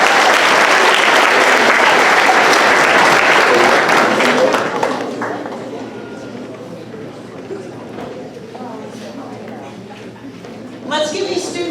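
Applause for student award winners at an 8th grade middle school academic awards ceremony starts loud and full, then tapers off into scattered claps and murmuring, with a voice speaking over the room near the end.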